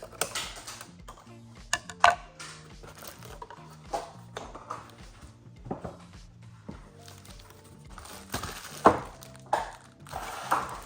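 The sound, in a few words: cutting open soundbar packaging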